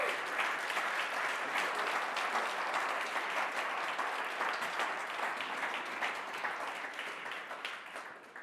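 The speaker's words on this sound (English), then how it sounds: "big applause again for all the teams on stage" An audience at a startup accelerator demo day applauds the teams on stage, producing dense and sustained clapping from a large crowd that stays loud for several seconds before tapering slightly.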